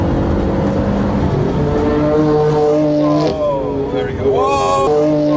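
A BMW M3's engine revs and accelerates hard, pitch rising and falling in strong surges, with people talking and exclaiming over it throughout.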